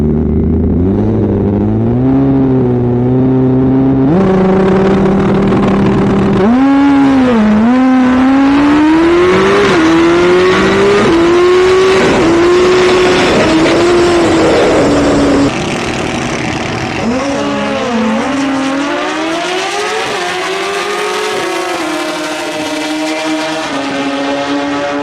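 A stock-wheelbase Hayabusa drag bike launching against a ZX14, its engine screaming loud and close, revving up through repeated gear changes with rising and falling pitch as it pulls hard down the strip.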